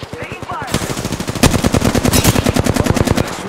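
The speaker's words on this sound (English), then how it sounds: "Shots fired. And they're hitting me." Rapid automatic gunfire from Apex Legends, a battle royale shooter, rattles in continuous close, loud bursts, with a sharper burst partway through and steady firing to the end.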